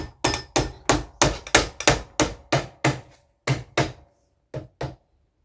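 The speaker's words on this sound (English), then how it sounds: "I'm going to take my rawhide hammer and see if the gearbox here will tap off" A rawhide hammer taps a gearbox off a Seagull 40 outboard motor: a close, loud run of about fifteen hard, evenly spaced blows, slowing toward the end with short pauses between the last strikes.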